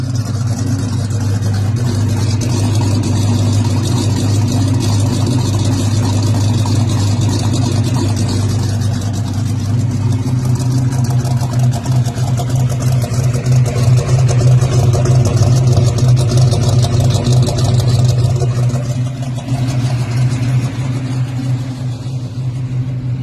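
A freshly swapped-in Oldsmobile 350 V8 idles on an old Monte Carlo carburetor with untuned timing and mixture, a loud, close, continuous low rumble with a slightly uneven lope throughout.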